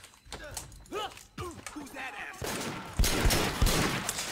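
Gunfire in the open-world action game Sleeping Dogs, a burst of sharp loud shots and impacts in the second half following softer game sounds and voices early on.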